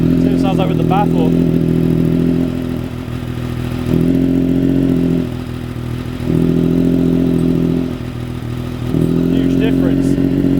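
A Triumph Daytona 955i motorcycle engine idles with its exhaust baffle fitted, giving a loud, steady low rumble that swells and eases in slow waves. A voice talks briefly over it.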